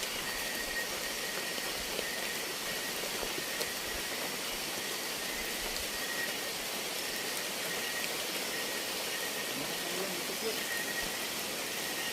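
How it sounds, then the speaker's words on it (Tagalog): Heavy rain pours down in a steady, even hiss that fills the whole stretch, with no pauses or distinct drops standing out. "malakas na yung ulan"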